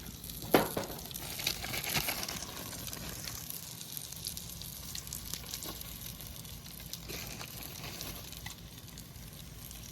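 Salmon on a grill with brown sugar melting on top, a soft steady sizzle and faint crackle close by, with a few louder pops early on over a quiet hiss.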